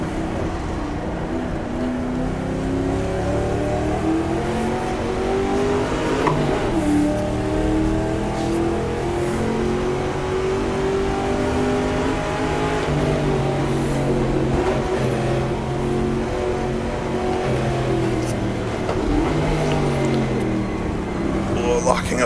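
Race car engine in GTR2 at the 1966 Daytona 24 Hours, a steady loud drone rising and falling through upshifts and downshifts with a heel-and-toe manual gearbox, someone talking over it.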